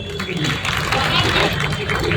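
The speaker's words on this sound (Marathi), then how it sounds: "माझी छोटीशी विनंती आहे की स्वतःसाठी टाळ्या झाल्याच पाहिजे" Audience applause at a Lokshahir Annabhau Sathe birth anniversary celebration, a dense continuous patter of many hands clapping with crowd voices mixed in.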